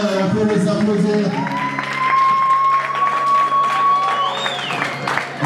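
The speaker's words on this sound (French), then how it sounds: "Si on peut les applaudir, s'il vous plaît, on peut les applaudir." Wedding guests applaud the bride and groom at the wedding of David Mutoba and Dorcas Lisasi, a steady crowd clapping that runs throughout under a sustained tone and background voices.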